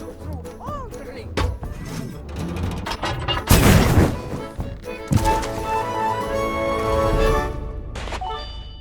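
Cannon fire in the pirate game Sea of Thieves, a loud broadband boom near the middle followed by another heavy blast and crashing, set against game music and background sounds.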